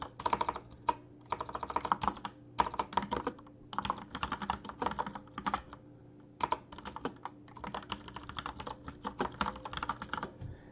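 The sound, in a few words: typing an email subject on a computer keyboard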